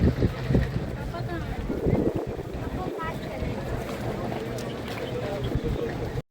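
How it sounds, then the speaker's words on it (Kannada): Ferry crossing between islands, heard as a continuous wash of water and rumbling engine noise with wind buffeting the microphone, steady and fairly loud throughout before cutting off abruptly. "ಸೊ ಗೈಸ್ ಇದು ಫೆರಿ ಆ್ಯಂಡ್ ಇದು ಬೋಟ್ ಶಿಪ್"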